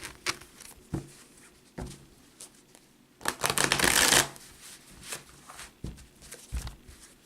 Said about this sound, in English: Okay, I just shuffle it up one more time